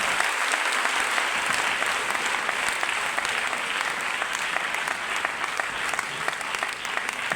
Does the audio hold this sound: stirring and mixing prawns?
no